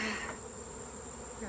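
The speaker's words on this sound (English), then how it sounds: "So I'm just gonna brush the bees off, and then we got to open the box" Honey bees buzz around an open hive during a honey harvest, a steady close swarm drone with a sharp high whine running under it, continuous throughout.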